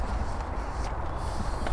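A horse at the Ploughing 2019 outdoor event, with a few clip-clop hoof steps over steady crowd and outdoor noise, fairly close but not loud.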